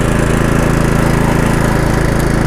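An EDCO scarifier powered by a Honda engine runs with its deck lowered onto the surface, giving a loud, close, steady engine roar with a fast rhythmic pulse and gritty scraping texture.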